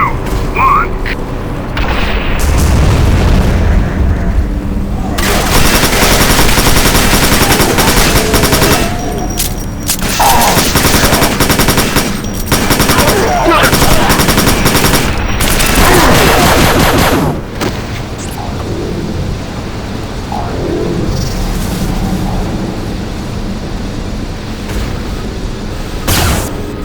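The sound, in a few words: orbital artillery bombardment explosions in video game Quake 4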